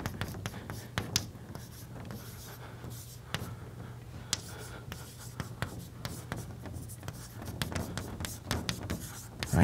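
Chalk or marker writing on a board during a math lecture on random matrices, with scattered taps, scratches and strokes over a low steady room hum, fairly close.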